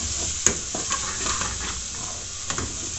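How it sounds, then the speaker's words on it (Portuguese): Onion, bell pepper and garlic sauté in a hot pan, giving a steady close sizzle with a few sharp clinks and stirring scrapes throughout. "vou colocar a cebola, o pimentão e o alho aqui, ó. Pra dar uma refogada dessas verduras."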